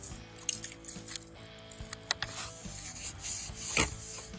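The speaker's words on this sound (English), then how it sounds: "Again, salt and pepper goes down first, and then our brisket rub goes down after." Brisket rub seasoning sprinkled over a salt-and-peppered brisket, soft irregular patters and light rubbing scrapes at close range, quiet, with a few sharper taps.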